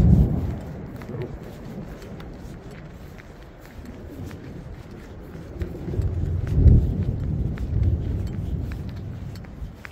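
Thunder rumbling through a storm on a long-distance hiking trail, low and rolling, swelling louder in the second half amid steady rain and occasional footsteps.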